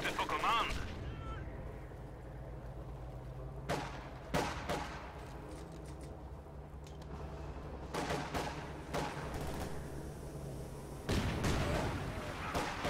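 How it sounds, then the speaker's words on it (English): Grenades and incendiary artillery trade across a World War II–style video game battle between Axis and Allied forces, with scattered sharp blasts and bursts of gunfire over a steady mechanical rumble and a heavier cluster near the end. "Grenades being exchanged"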